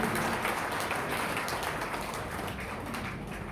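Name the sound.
audience applause at a Hindi poetry gathering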